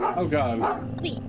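A dog barking in the Goosebumps video game while someone talks over it, the barks brief and partly masked by the voice.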